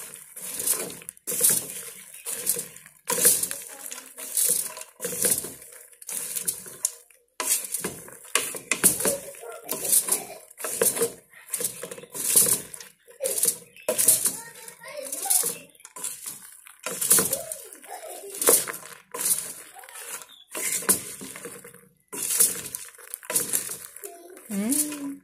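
Chocolate popcorn is stirred in a pan, giving a steady run of scraping, clinking strokes against the metal, with some voices in the background.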